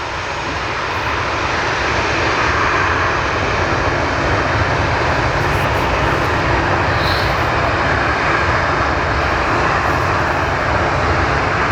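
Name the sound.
airplane flying near Portland airport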